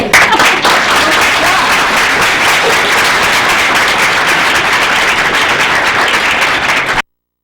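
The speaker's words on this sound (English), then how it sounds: "give her a round of applause" Round of applause from a room of people at a community meeting with a senator in Sitka, loud, dense and continuous clapping that fills the whole stretch before cutting off abruptly near the end.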